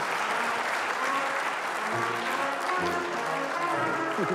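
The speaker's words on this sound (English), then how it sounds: "how about a big round of applause?" A studio audience gives continuous, even applause for guest Jacki Taylor, CEO of Save the Family, with a voice murmuring faintly beneath the clapping.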